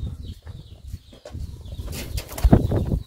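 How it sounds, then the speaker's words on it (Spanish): Wings flap close by outside a rural house in El Salvador, with bursts of fluttering and a louder flurry near the end, amid scattered soft knocks and background noise. "Ya me va a sentar un pájaro en la cabeza."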